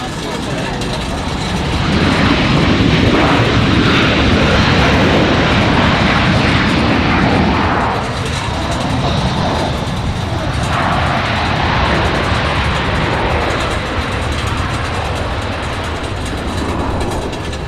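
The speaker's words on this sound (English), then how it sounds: "That United A319 touching down." United Airbus A319 touching down at Raleigh-Durham International Airport, a loud sustained jet roar that swells and holds steady, with faint voices talking beneath it.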